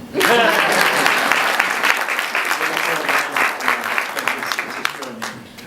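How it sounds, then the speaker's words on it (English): Audience bursting into loud, close applause after a speech, dense clapping swelling quickly then gradually thinning, with voices and murmurs mixed in. "You can applaud."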